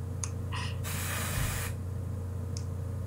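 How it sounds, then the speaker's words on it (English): A single steady hiss of medicine spray from a can, applied to poison ivy, lasts under a second, close and fairly loud against a quiet room, with no talk. "I have to go spray on the poison ivy!"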